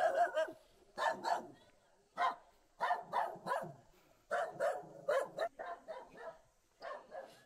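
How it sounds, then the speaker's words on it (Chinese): A small dog barks in a series of sharp, close yaps along a newly paved road through a quiet mountain village in Anhui's Dabie Mountains, with a pause midway before the barking resumes. "哟，小狗。"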